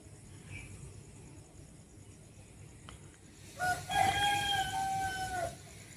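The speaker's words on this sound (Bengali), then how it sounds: "মুরগিটা ডাকছে কখন থেকে" A rooster crows loudly nearby, a single drawn-out call over faint background noise after a few quiet seconds.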